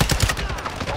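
Rapid gunfire in a shooter video game on Ashika Island, a dense burst of overlapping shots through the whole second, with speech mixed in.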